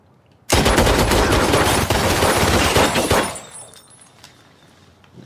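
A gunshot blast erupts and its loud crackling burst holds for about three seconds before tailing off into a quieter ringing decay, with no talk over it.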